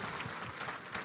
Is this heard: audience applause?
yes